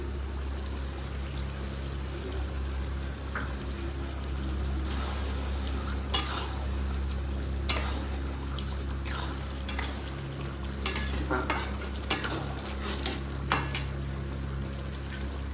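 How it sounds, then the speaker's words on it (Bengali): Mutton curry with dry chili powder being stirred in a pan: intermittent scraping and clinking strokes of a spoon over a steady low background hum, with no voices. "খাসির মাংস তো ওই জন্য 5 মিনিট ঢেকে ঢেকে নাড়াবো।"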